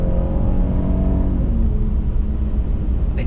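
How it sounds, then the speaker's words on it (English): A V6 Porsche Cayenne accelerates hard in second gear through a corner, its engine a loud, close, steady rumbling growl with the pitch climbing and then settling, no voices over it. "Down into second gear, plant the throttle, round the corner."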